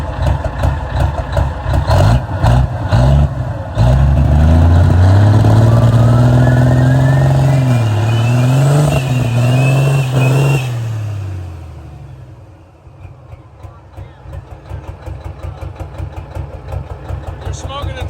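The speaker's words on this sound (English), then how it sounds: "Smoking the tires off." A 20,000 lb semi truck doing a burnout, its big engine revving hard and loud with rising and falling pitch, then cutting out to a lower idle with a rough rattle.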